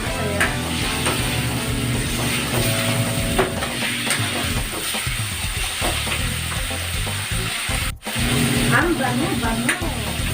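Chicken and mushrooms fry together in a pan with a continuous sizzle, with scattered clinks and scraping of stirring, while a voice speaks briefly over it.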